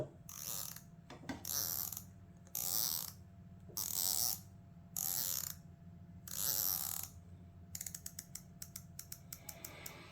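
Turrets on a NightForce ATACR C577 riflescope are turned, giving a series of close, quiet rasping ratchet sweeps, then a quick run of crisp individual clicks at the end.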